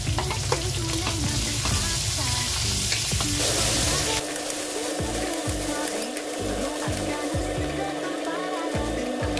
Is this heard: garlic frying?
yes